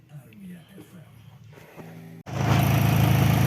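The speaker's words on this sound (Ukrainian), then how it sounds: "Двигун рівненько працює, не чути підсосу." Brief speech and faint sounds give way to an Opel car engine starting after crankcase ventilation valve repair, then running at a loud, steady, even idle up close.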